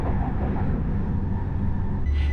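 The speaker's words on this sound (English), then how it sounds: "with a train ride heading out of the city and into nature" Inside a train leaving the city, a loud, steady low rumble of the moving carriage fills the cabin throughout, with a brief higher rattle near the end and no talk.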